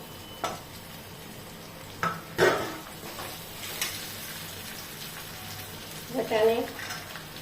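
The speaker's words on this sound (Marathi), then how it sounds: "आपल्याला यामध्ये उकळून घेतलेले बटाटे टाकायचे।" Boiled potatoes tipped into a pan of samosa filling and stirred, with soft scraping and knocking of a spoon against the pan, a few distinct clunks and a light sizzle under quiet talk.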